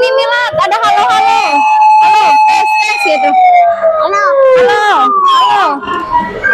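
A toy siren on a playground wails in a rising and falling tone, loud and close, while children and adults talk and exclaim over it.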